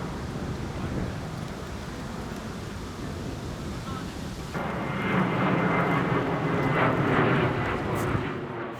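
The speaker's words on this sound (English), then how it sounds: "The people that are living with aircraft noise in this city cannot enjoy their backyards" Fixed-wing airplane passing low near one of New York City's major airports, a broad rumbling roar that swells noticeably louder halfway through and holds, close and dominant with no talking.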